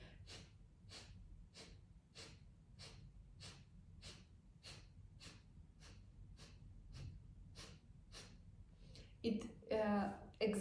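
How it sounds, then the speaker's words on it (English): Kapalbhati yoga breathing: a steady run of about fourteen sharp, forceful nasal exhales at an even, quick rhythm, close and quiet, followed by a brief burst of talking at the end. "exhale through your nose, only through your nose. And you move your stomach inside in each exhale."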